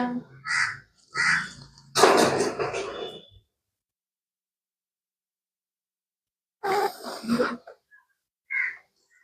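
Several harsh crow caws in separated bursts, loud and nearby, with a long silent gap between the early calls and the later ones.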